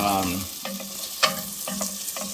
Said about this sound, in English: I'm also going to add next to this some carrots and onions.